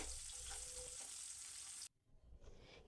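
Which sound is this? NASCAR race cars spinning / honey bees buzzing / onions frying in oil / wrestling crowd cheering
onions frying in oil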